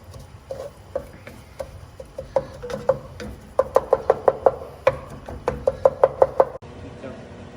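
Spoon stirring a dark roux for gumbo in a pot, a close series of hollow wooden knocks and scrapes against the pot, speeding into quick rhythmic tapping before stopping abruptly.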